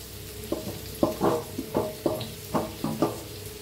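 Potato chunks stirred into a sizzling turmeric and coriander-powder spice mix for Marathi potato bhaji, with a spoon scraping in steady strokes about every half second over a soft, close frying hiss.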